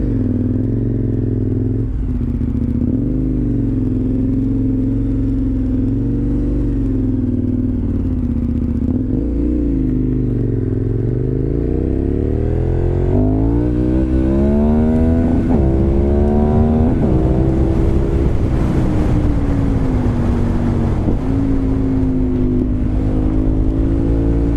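A KTM 1090 Adventure R motorcycle engine drones loud and close throughout, its pitch rising and falling through repeated revs and gear changes over steady rumble.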